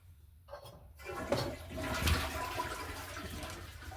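A toilet flushes in a bathroom, the rushing water building up after a quiet start and staying loud and close as it swirls and drains, with no one talking.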